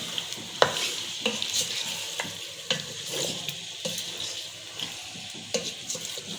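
Aloo gosht meat frying in a pot, a steady broadband sizzle broken by a dozen or so scraping stirs at irregular intervals, close and moderately loud with no talking.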